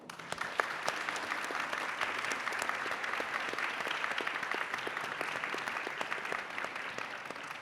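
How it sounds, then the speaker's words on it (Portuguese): An audience at an Afro-Indigenous roundtable claps for its guests in a steady, moderately distant round of applause, many hands blending into an even patter that holds for several seconds. "uma salva de palmas para os nossos convidados"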